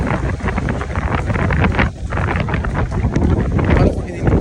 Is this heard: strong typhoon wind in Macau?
yes